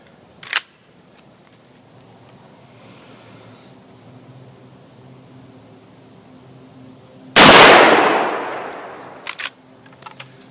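A Marlin 336 lever-action rifle in .35 Remington fires outdoors: a sharp crack early on, then a loud close shot with a long decaying echo, followed by a few faint mechanical clicks.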